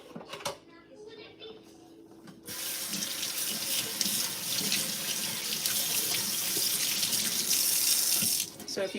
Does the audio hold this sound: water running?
yes